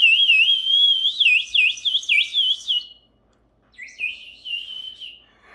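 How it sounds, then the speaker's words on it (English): A ceramic bird water whistle filled with water gives bright, warbling trills close by, in a long burst of chirps, then a short silence and a second, softer burst. "Make this fun little bird whistle"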